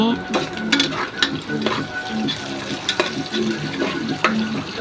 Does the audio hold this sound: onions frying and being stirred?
yes